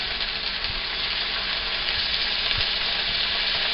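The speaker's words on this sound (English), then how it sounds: "So we start by throwing in all the chicken." Chicken pieces frying in a hot pan for a chicken and broccoli stir-fry, a close, steady sizzle and hiss with faint stirring clicks and no talk.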